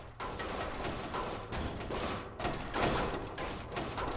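Rapid bursts of gunfire from a weapon in the physics sandbox game People Playground, dense, loud and continuous across the whole span with no talking.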